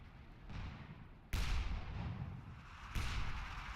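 Artillery bombardment in a Combat Mission-style World War II game during the battle for Caen, with two heavy distant booms separated by low rumbling, moderately loud and with no voices.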